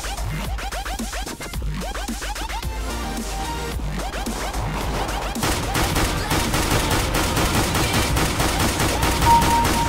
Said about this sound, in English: I feel like Lara Croft right now with these dual pistols